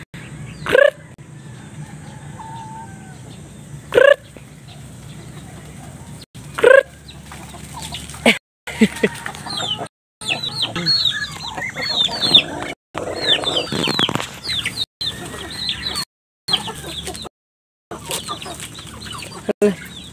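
Chickens cluck and call in short repeated bursts among a flock of Muscovy ducks on a farm, with sharp close cries at the start and denser overlapping clucking later, broken by brief gaps.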